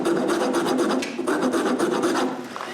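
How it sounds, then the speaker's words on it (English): A hand rasp files wood to join two drilled holes into an elongated slot for an edge sander build, with steady back-and-forth scraping strokes in a close, even rhythm lasting nearly three seconds. "I make it by drilling 2 holes, one beside the other, and I join them with a rasp."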